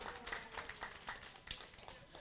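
Audience applause at a financial planning seminar, a dense patter of many hands clapping at moderate distance, steady for a couple of seconds under a low room murmur.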